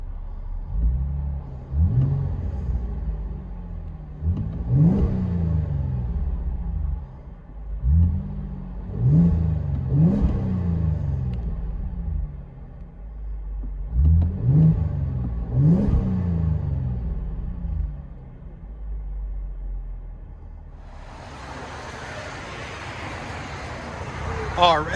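Heard from inside the cabin, a 2011 Chevy Camaro RS with a 3.6L V6 and Borla S-Type exhaust revs repeatedly in rising bursts over a low rumble, then settles into a steady drone with road hiss.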